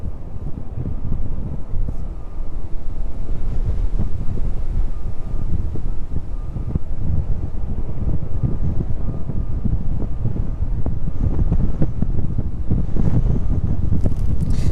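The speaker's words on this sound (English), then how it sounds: "Blast from those engines just reaching us now." Jet engine blast rolling in from an aircraft climbing away after takeoff at East Midlands Airport, a loud, steady broadband roar with heavy wind buffeting on the microphone throughout.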